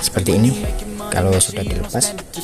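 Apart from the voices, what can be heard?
None of the usual background noises is heard.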